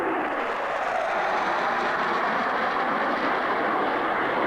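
F-111 fast jets flying past, a steady loud broadband roar that holds at full strength from start to finish.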